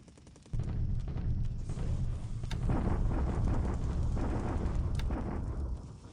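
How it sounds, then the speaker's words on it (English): Artillery bombardment in the War in the Pacific naval strategy game, a dense continuous rumble of overlapping blasts and booms lasting several seconds, with a couple of sharper cracks standing out. "Bombardment here."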